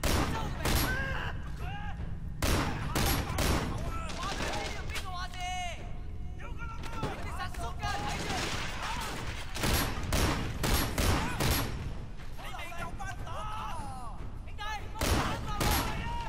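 Shotgun blasts in the open-world action game Sleeping Dogs, heavy booming shots going off repeatedly and loud across the whole stretch, mixed with game noise while someone talks over the gunfire.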